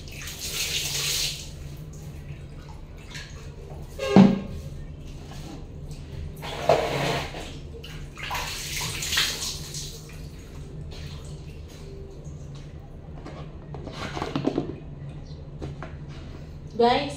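A shower runs steadily during a bath, a soft continuous hiss and splash beneath intermittent talking, with occasional louder splashes.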